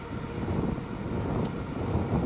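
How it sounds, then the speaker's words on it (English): Steady roaring winter wind buffets the microphone during a bicycle ride, a dense low rumble with no letup and no voices. "Man, that wind is strong."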